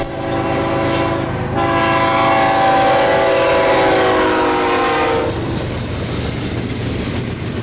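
A train rumbles past a railroad crossing on Ghost Road in Saratoga, Texas, its horn blaring loud and close for several seconds over the rolling clatter of the cars, which keeps going after the horn stops.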